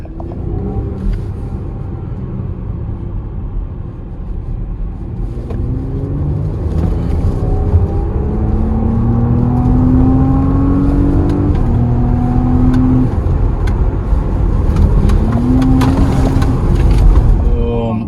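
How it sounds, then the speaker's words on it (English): A 2020 Porsche Cayenne E-hybrid accelerates hard. Its engine note climbs steadily in repeated rising sweeps through the gear changes, loud and continuous over road and wind noise inside the cabin. "Acceleration is super good."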